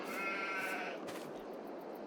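Sheep bleating in the farming video game Farming Simulator 22, a wavering bleat in the first second followed by a steady farmyard ambience, with no talk.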